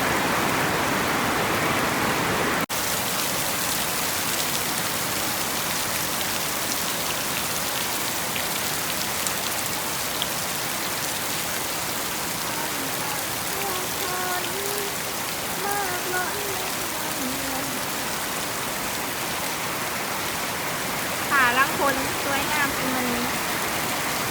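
Heavy storm rain pours steadily in a garden in Laos, a dense continuous hiss with scattered drips and brief faint sounds rising through it.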